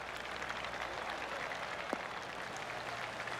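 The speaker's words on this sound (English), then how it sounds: "I can hear the golf claps around the course" A video game golf crowd in PGA Tour 2K25 gives soft, scattered golf claps around the course, a steady faint patter of distant applause with no talking.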